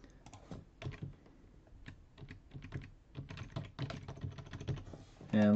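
Fingers type quickly on a computer keyboard while filling out an online payment form, producing irregular bursts of light key clicks close by, ending with a short louder tone.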